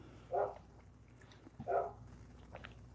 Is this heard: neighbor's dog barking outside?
yes